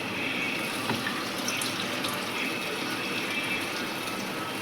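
Squeezed tamarind water pours into a pot for an onion curry, a continuous close splashing rush of liquid that holds steady without pause.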